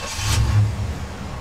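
1991 Cadillac Brougham d'Elegance with 41k miles firing up, a short crank and catch into a steady low idle, close and moderately loud with no talk.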